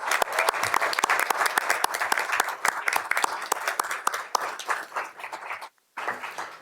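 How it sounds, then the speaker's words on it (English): A board of education meeting room breaks into a dense round of applause, many hands clapping steadily and fairly close, holding for several seconds before a brief pause and a short final burst. "one last round of applause for the Northeast Elementary team and Miss Brown"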